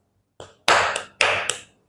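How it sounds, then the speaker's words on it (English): Hands clapping close by: a soft first tap, then two sharp, loud claps about half a second apart, each ringing briefly in a quiet room. "I'm clapping my hands."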